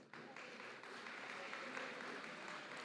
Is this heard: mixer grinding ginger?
no